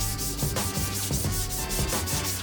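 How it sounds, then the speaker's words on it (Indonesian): Hand sanding wood with 400-grit sandpaper, a steady rhythmic rubbing rasp with regular back-and-forth strokes, close and continuous with no talking. "Kita lakukan secara ambang ke seluruh permukaan kayu sampai serabut-serabut kayu yang halus itu teramplas dengan sempurna"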